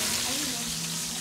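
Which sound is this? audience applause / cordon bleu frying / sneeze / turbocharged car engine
cordon bleu frying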